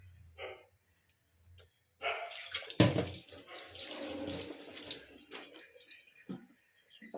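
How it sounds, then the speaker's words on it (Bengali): Mixer-rinse water is poured into a pan of oil-free chicken curry, a splashing, gurgling pour of about three seconds after near silence, trailing off into faint drips and small knocks. "পুরো মিক্সিটা ধুয়ে এই যে জলটা নিয়ে নিলাম, জলটা এবার দিয়ে দিলাম।"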